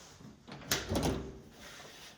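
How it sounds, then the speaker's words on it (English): A ute's door swings shut and strikes the sill of its MX5-based body, making a soft clunk and then a duller thud, close by and quiet. "these doors don't actually close properly because they hit the MX5 sill"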